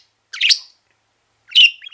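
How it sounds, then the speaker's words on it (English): A pet bird gives two short, loud chirps, close by and separated by about a second of silence. "You're chirping a lot, trying to talk."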